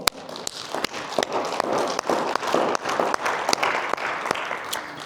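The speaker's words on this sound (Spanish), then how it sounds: "Vamos a un aplauso al Señor." A church congregation applauds the Lord in a sustained, loud round of clapping, with sharp individual claps standing out over a dense wash of hands.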